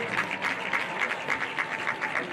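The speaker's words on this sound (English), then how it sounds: "let's give everybody a hand clap for a job well done" A homecoming crowd at a Westside Warriors football game applauds, the clapping falling into a steady pulsing rhythm, moderately loud and heard through open-air stadium ambience.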